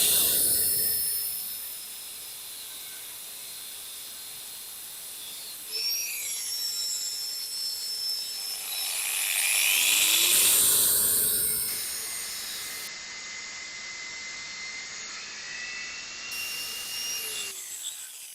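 A slightly rusty 8mm steel rod, about three years old, is cut with a power tool on a Karnataka pepper farm. A whining motor rises and falls, with a harsh, hissing grind swelling midway before it winds down.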